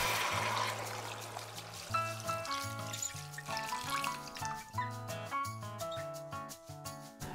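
Water pours steadily into a soup pot holding a chicken carcass, the pitch rising as it fills, with gurgling and splashing up close throughout.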